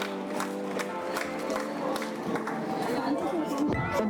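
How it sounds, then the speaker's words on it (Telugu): Audience applause at a Kalam Spoorthi Yatra ground event, steady crowd clapping with scattered sharp claps running under a voice speaking through a microphone. "క్లాప్స్ అన్న క్లాప్స్."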